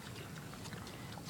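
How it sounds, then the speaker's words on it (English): A pig eats, making soft wet chewing and biting sounds at close range over a quiet background hiss. "today I'm gonna show you this pig eating."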